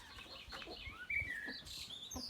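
Faint chirps and short calls from birds near a newly built coop for young chicks, with a few quick rising tweets. They come in scattered bursts over a quiet, low background.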